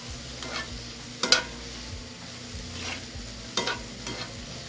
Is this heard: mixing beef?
yes